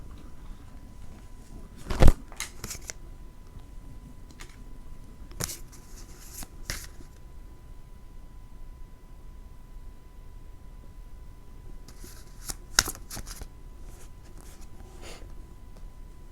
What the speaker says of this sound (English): Cards flying everywhere.